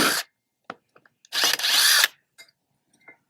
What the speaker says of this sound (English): You think the impact, the 3/8 impact will take it out?